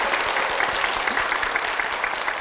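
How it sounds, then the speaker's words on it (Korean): A room full of people at a church claps steadily for a couple of seconds, dense and even applause close by. "박수 좀 주세요"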